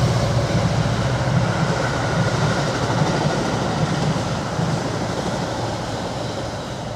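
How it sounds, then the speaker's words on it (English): A Metra commuter train on a BNSF Railway line beside a forest preserve rolls past with a steady rumble and faint clickety-clack that slowly fades, and no voices are heard. "they run their Metra commuter trains back and forth all day long"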